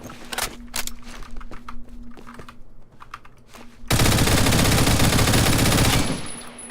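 Assault rifle fire in the Roblox shooter Phantom Forces: scattered single shots and short clicks, then a loud continuous automatic burst of about two seconds before it stops. No one speaks.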